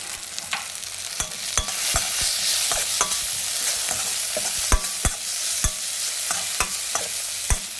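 A spoon stirs turmeric and salt through the base of a chilli rasam in a pan. Sharp, irregular clinks of metal on the pan ring out over a steady frying sizzle, close and clear, with no voices.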